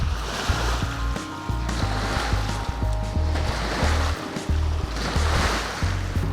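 Water laps steadily against the shore at Hood Canal Marina, a continuous wash of surf mixed with wind and a low, pulsing rumble underneath.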